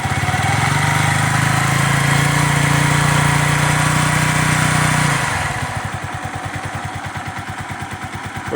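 A Yamaha YZF R125 motorcycle engine, freshly rebuilt after a valve change, idles on a first start, loud and close with a steady hum that drops after five seconds into a slower, uneven low putter.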